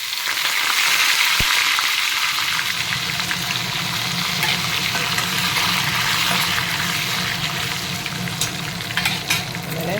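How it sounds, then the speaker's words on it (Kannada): Vegetables fry in a hot pan for vegetable fried rice as curry leaves go in, a loud continuous close sizzle with a brief sharp crackle early on and steady spattering throughout. "ಈಗ ಇದು ಸ್ವಲ್ಪ ಫ್ರೈ ಆದಮೇಲೆ ಇದಕ್ಕೆ ಒಂದು ಸ್ವಲ್ಪ ಕರಿಬೇವು ಹಾಕ್ತಾಯಿದ್ದೀನಿ."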